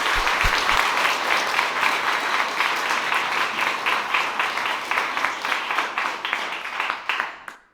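Sustained applause from an audience at a data science and web development bootcamp demo day, honoring the teachers; dense steady clapping throughout that thins and fades out near the end.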